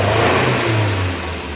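A cold 2004 Suzuki Carry 1.5 carburettor pickup engine revs up close, its loud uneven growl swelling then easing back toward idle, with no talk.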